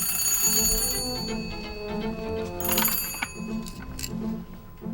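An old-style bell telephone rings in a cartoon home, a bright, rattling electronic trill in short bursts over a steady low background, with a few brief clicks and no talk.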